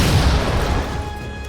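A rocket launcher explosion in Halo 4: a heavy, close boom with a dense, noisy burst that slowly settles into a lower rumble over about a second and a half.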